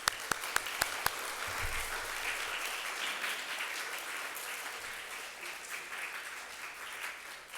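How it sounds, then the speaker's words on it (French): Children applaud for Jesus at a French-language church service, a few sharp early claps swelling into steady, dense applause from a room of young people that carries on for several seconds. "les enfants, on applaudit pour Jésus"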